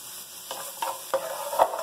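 Onion sautéing in a pan over a high gas flame, with a steady close sizzle broken by several sharp stirring scrapes of a utensil.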